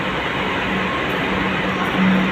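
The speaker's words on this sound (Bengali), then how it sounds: "ও ছেড়ে দিয়েছে মেট্রো" Loud, steady rumble of a departing Kolkata metro train on the New Garia to Ruby route nearby, a continuous mechanical roar with a low hum.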